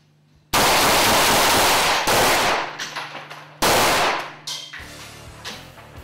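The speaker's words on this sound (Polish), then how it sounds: "Teraz jeszcze chyba najpopularniejszy na świecie i niezawodny od lat Kałasznikow." A Kalashnikov rifle fires at a laptop: a few loud, sharp shots, each cracking hard and trailing off in echo and rattling debris, with brief gaps between them.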